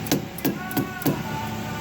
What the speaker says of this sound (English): you take a little hammer and you just tapping it all the way around it